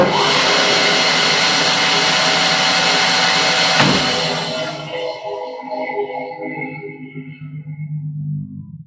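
A new band saw in a woodworking shop runs with a loud, steady whine, then switches off and spins down with a fading, wavering hum.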